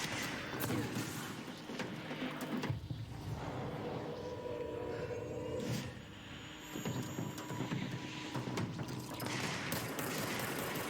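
Gunfire in the video game Control AWE, with rapid bursts of shots and mechanical clatter running almost the whole time, loud and dense with a brief lull near the middle.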